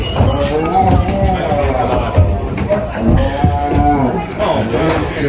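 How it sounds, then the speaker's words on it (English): Cattle at a livestock auction, low moos and shuffling among a crowd's chatter, with an auctioneer's rapid calling running over the whole stretch. "So we're running our cattle through here."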